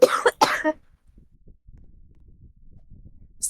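Two quick coughs close together at the start, then near silence with faint low rumbling.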